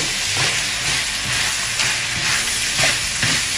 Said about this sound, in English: I'm frying this now on the highest heat.